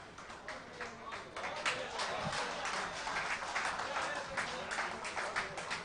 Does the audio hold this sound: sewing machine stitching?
no